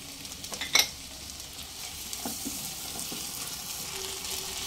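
Ginger-garlic paste and chopped tomato sautéing for Bengali ghugni, a low steady sizzle with a brief sharp spatula scrape near the start, faint and continuous throughout.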